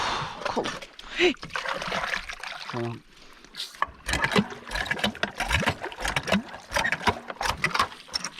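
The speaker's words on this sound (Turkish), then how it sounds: "Su dökebilirsin." Water splashes and pours while a water pump motor is being started outdoors, with bursts of splashing amid several people talking loudly nearby.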